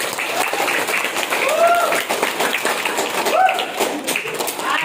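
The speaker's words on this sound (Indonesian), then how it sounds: "Sekali lagi tepuk tangan buat adik-adik yang 4 orang ini" Audience applause for four students at a motivational learning training session at Yayasan Mathla'ul Anwar, a steady patter of clapping hands with a few faint voices and whistle-like tones mixed in.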